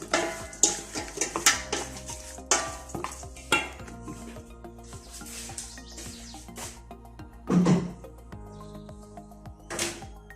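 Salt and half a glass of oil being stirred in a pot for Moroccan couscous with seven vegetables and meat: close, uneven scraping and clinking of a utensil against the pot, with no talking.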